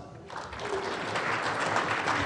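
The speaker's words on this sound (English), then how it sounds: "Another round of applause." Applause from a conference audience at a talk on open-source software adoption in the US government, a steady wash of clapping held at an even level for about two seconds with no voices over it.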